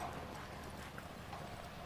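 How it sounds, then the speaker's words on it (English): Horse hooves clip-clop faintly on the ground during a campdraft run, a quiet, steady patter under a wash of broad outdoor noise. "On course proper though, this is competitor number 116, Hugh Miles riding Jitter"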